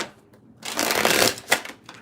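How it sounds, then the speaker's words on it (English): A deck of tarot cards is riffled in one quick, close shuffle that swells into a dense papery burst before a final snap, with quiet moments on either side. "These cards never want to shuffle, unfortunately."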